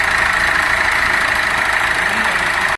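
A Peugeot 1.6 THP EP6 petrol engine idles with a rough, tractor-like clatter, a steady close mechanical drone that holds evenly throughout.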